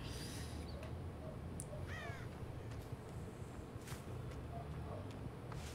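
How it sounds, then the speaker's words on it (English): Crows cawing in the horror game Dead by Daylight, a few scattered harsh caws at moderate distance over a steady low ambient rumble, with no talk. "Let's look for crows flying away."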